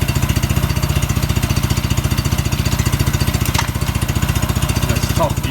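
Running in fourth, its top gear, a Suzuki Quad Runner ATV thrums with a rapid, regular putter. The engine is close and loud, with a faint clank partway through and a brief higher whine near the end.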